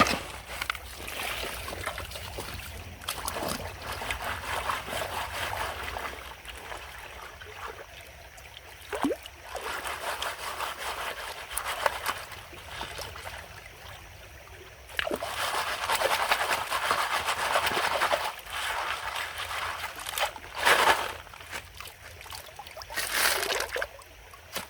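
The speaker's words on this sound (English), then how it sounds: "I'll shake it anyway, see if there's any gold in there." Gravel and flood debris slosh and rattle in a gold pan shaken in water outdoors, with repeated swishing, trickling bursts rising and falling over about twenty-five seconds, close and moderately loud.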